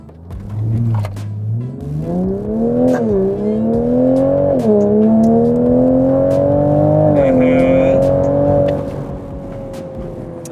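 A sports car launches hard from standstill, its engine roaring loudly and climbing in pitch through several gear changes for about eight seconds before easing off.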